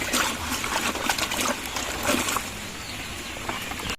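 Water splashes and trickles continuously into a container of cassava-based pig feed, a busy wet pouring sound with some background noise.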